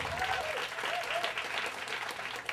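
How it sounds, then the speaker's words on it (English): A comedy-show audience gives a round of applause for a performer, a dense, steady wash of many hands clapping close and loud for the whole stretch, with faint crowd noise beneath. "A round of applause for Sarah."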